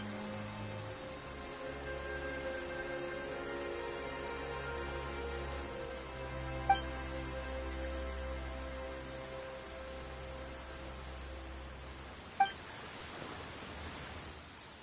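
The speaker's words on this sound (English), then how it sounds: "Why is it raining all of a sudden?" Soft, steady rain falls in a quiet, continuous hiss in the video game Genshin Impact, broken by two brief sharp clicks, faint and distant-sounding with no voices.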